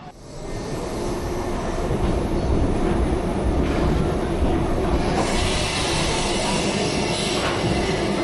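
The Expedition Everest roller coaster train at Disney rumbles along its track, a loud, continuous rolling roar that swells and stays steady near the listener.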